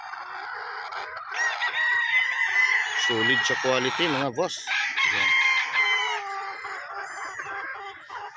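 Game roosters prepared by a livestock farm for a Bicol expo crow amid clucking fowl, with a strong stuttering crow around the middle, while someone talks throughout over a busy farmyard.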